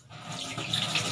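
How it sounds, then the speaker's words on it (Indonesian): Water gushes steadily from a tap, a close hiss that starts abruptly and grows a little fuller, with no voices. "Kemudian nyalakan keran"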